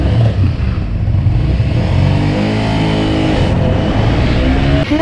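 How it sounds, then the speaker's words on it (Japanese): A Showa-era Honda VT250 Spada motorcycle engine running at a circuit meeting in Kobe, loud and near, revving with rising and falling tones throughout, no speech heard. "すぐにエンジンかかる丈夫なスパーダちゃん。"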